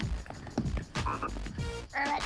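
Voices on a children's hip hop show imitate a frog's croaking with rhythmic 'ribbit' calls over a bouncy music track, each call loud and close.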